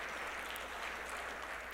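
An audience at a health care policy keynote gives a round of applause, a faint, even patter of many hands heard from a distance in a large room.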